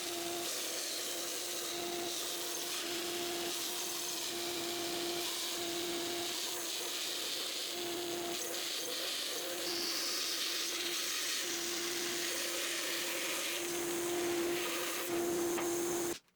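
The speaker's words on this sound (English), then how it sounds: "The next step was to cut the boards to the correct thickness, and the bandsaw was my machine of choice." Bandsaw resawing wooden boards to thickness for a Roubo split-top workbench insert, a steady continuous machine whine with a constant hum and rough cutting noise throughout, ending abruptly.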